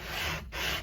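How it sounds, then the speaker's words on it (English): Abrasive paper rubs over the maple back of a Strat-style guitar neck, two close, steady back-and-forth sanding strokes separated by a brief pause. "I just could feel the wood thinning out underneath my sanding"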